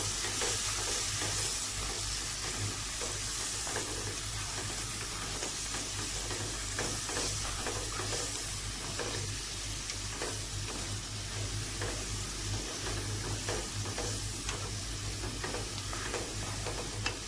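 Garam masala and pepper powder stirred into a hot frying pan for a prawn and cauliflower fusion masala, with a loud, continuous sizzle and rapid scraping strokes throughout, steady and close, with no talking.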